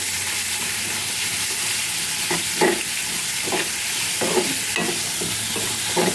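Onion frying in a pan with salt makes a constant close sizzle, broken by a series of spatula stirs and scrapes in the second half.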